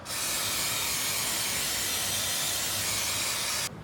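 Cleaner sprayed onto a filthy motorcycle chain: one loud, continuous hiss, close and steady for about three and a half seconds before cutting off sharply.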